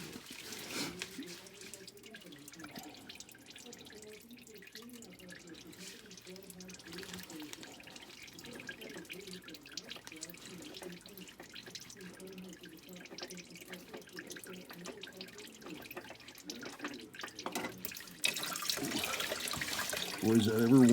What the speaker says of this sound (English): Now you loosen it off a bit and let the oil drip out.